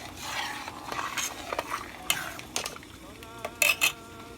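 Organic coconut milk stirred in a pot in a home kitchen, heard as soft swishing with a spoon clinking and scraping against the pot. Several sharper clinks stand out near the end.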